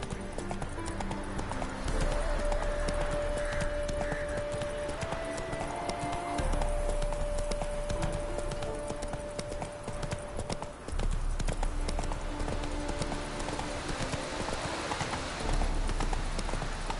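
In the video game Witcher 3, the horse Roach gallops with a fast, steady clip-clop of hooves that runs nearly the whole time, over game music and ambience, with a brief neigh.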